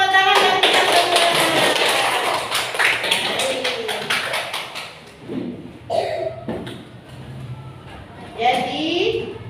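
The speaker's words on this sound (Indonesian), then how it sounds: "Oke, tepuk tangan dan kita semua." Students in a classroom clap their hands together in a loud, dense burst for several seconds, tapering into scattered claps and children's voices talking nearby.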